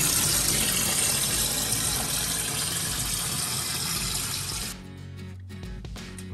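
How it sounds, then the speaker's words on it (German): Water gushes from a tap into a bucket, a loud, close, continuous rushing splash for several seconds that cuts off abruptly, leaving faint drips and small clatters. "wir nehmen jetzt als erstes einen Eimer, füllen ein bisschen Wasser auf"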